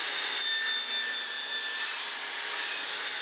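A power saw cutting a tapered piece of wood for a TV stand, a steady high whining cut held close and loud for the full few seconds without pauses.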